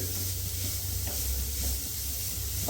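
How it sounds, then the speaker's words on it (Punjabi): Crushed radish sizzles in a hot pan for radish-stuffed flatbread, a steady hissing fry with soft stirring scrapes underneath, close and even throughout, no one talking. "ਮੂਲੀਆਂ ਪਾ ਕੇ ਮਿਕਸ ਕਰ ਦਵਾਂਗੇ"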